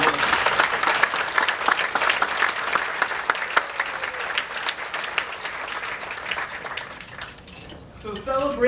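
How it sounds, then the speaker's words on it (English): An audience at a community partnership celebration gives a full round of applause, thick and steady clapping that tapers near the end as a voice begins. "just give an applause to Deanna for organizing this"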